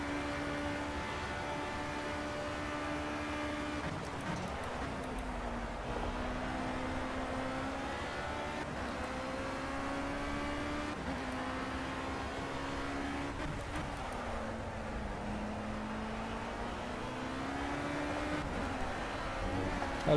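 Race car engine in the Project CARS racing game on a fast lap, a steady droning whine that rises and dips in pitch through gear changes and corners, continuous and fairly loud with no talking.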